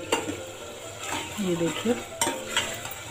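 Ginger garlic paste goes into masala frying in a pan for chicken curry: a spatula stirs and scrapes with a few metal clinks over a soft sizzle, and a voice speaks briefly.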